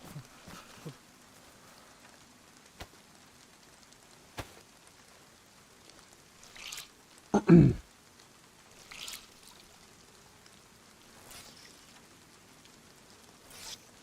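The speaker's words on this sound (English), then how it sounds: "Oh, it's still raining out." Rain falls in the DayZ video game on the DeerIsle map as a faint, steady wash under scattered clicks and one brief louder burst partway through, with no talk.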